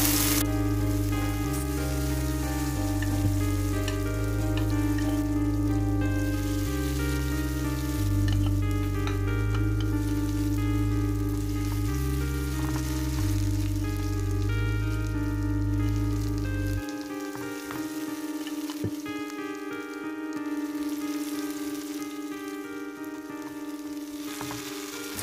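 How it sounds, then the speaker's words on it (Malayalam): Okra frying in hot oil in a pan for a bhindi masala, a continuous close hiss and crackle that holds steady throughout, with a low droning hum underneath that drops away partway through. "ആ എണ്ണ ചൂടാകുമ്പോഴേക്കും നമുക്ക് ഈ വെണ്ടക്കായ നമുക്ക് ഒന്ന് ഫ്രൈ ചെയ്തെടുക്കാം"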